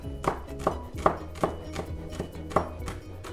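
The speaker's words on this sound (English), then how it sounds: "We are gonna get our garlic chopped up" Garlic being roughly chopped with a knife on a cutting board, about eight evenly spaced thunks, close and moderately loud with no talking.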